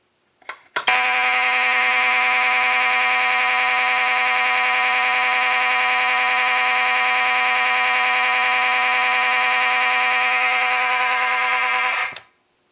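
A Monaco Vulcan 1 fire alarm, triggered from a pull station, blares one loud, continuous buzzing horn tone for about eleven seconds before cutting off abruptly.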